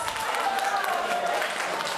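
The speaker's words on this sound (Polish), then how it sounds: "Gorące brawa mamy naszego nowego pana młodego" Wedding guests applaud the new groom in a brief burst of crowd clapping, a dense, even patter at moderate volume.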